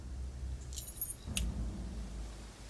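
A set of keys jingles briefly in The Final Hour video game, two short metallic rattles close together against a quiet low hum, with no talking.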